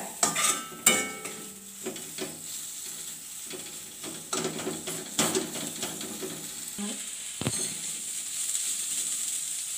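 Vermicelli chicken biryani ingredients with green chillies are stirred together in a hot pan: a ladle scrapes and clatters against the metal in an uneven rhythm over continuous sizzling frying, close and fairly loud, with no voices.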